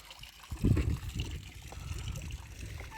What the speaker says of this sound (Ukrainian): з берега собі йде чиста вода?